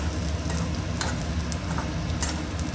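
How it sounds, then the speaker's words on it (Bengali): Aloo paratha frying in oil on a pan over medium heat gives a dense, continuous close sizzle with small crackles throughout. "দুপিঠটা আস্তে আস্তে ভেজে দিতে হবে। জোরে ভাজবেন না, মিডিয়াম আঁচে ভাজবেন"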